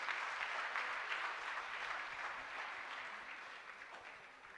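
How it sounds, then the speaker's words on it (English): Audience clapping for children at a summer camp fun day, a dense steady round of applause that stays strong throughout and eases slightly toward the end, with no voices over it. "Can we have another round of applause for all the children?"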